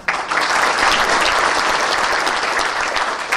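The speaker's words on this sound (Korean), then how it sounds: "여러분 격려 박수" A room full of people claps steadily and warmly, the applause sustained throughout without any voices over it.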